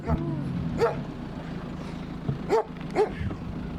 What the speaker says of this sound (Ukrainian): нас зустрів пес. Гавкав злісно, гарчав